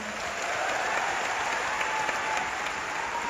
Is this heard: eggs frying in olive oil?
no